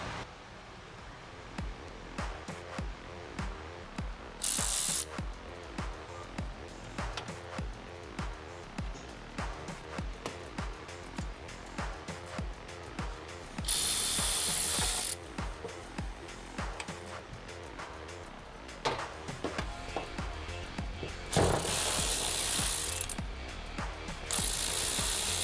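A sensor is removed from a classic car's brake master cylinder, with quick ratcheting clicks in short repeated bursts close by, fairly quiet and without talk.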